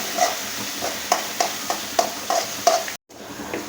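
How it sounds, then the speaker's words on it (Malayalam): Ginger and garlic frying in a pan while being stirred, about nine evenly spaced scraping strokes over a soft sizzle, close by, ending in a brief cut to silence. "ഇഞ്ചി വെളുത്തുള്ളി ഇഞ്ചിയും നമ്മൾ ഇട്ട് കൊടുക്കുന്നു ഇതൊന്ന് ബ്രൗൺ നിറമാകുന്നത് വരെ ഒന്ന് നമുക്കൊന്ന് ഇളക്കാം"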